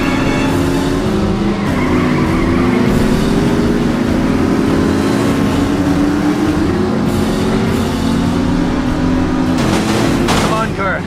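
Race cars in the video game The Saboteur roar past with loud, continuous engine drone and repeated tire squeals and skids, while a voice speaks over the noise.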